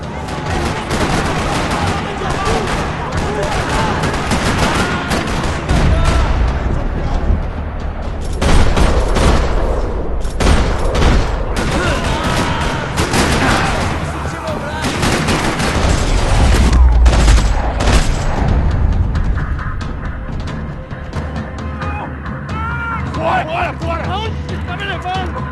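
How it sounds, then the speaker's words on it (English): Gunfire rattles through a parking lot in the Max Payne 3 video game, bursts of shots and heavy booms coming in clusters over a steady rumble, with a voice talking over parts of it. "Another parking lot rattling with gunfire."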